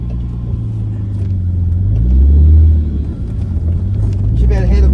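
Nissan R33 Skyline rolling at low speed with a rattle. The engine gives a steady, close, low rumble that swells briefly midway and then settles again.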